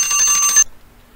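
A loud, close timer alarm rings in a rapid electronic burst, then cuts off abruptly into near silence.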